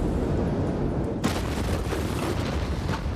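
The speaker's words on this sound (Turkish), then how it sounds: "Patlama anının yeni görüntüleri de yaşanan dramı gözler önüne seriyor." A deep, roaring blast rumbles continuously, with a sudden surge of crackling debris and wind noise partway through; loud and distant-sounding, no speech.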